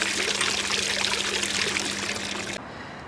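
Water gushes steadily into an Intex pool as it is pumped in, a loud, even rushing pour that cuts off near the end, leaving a lower hum.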